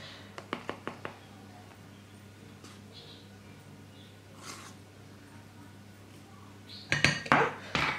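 Utensil scraping and clinking in a bowl while mixing keto cookie dough with coconut and cocoa, with a few quick taps early, scattered soft scrapes, and louder clattering stirs near the end, close and without speech.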